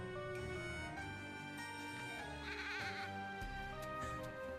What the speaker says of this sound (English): He's a goat.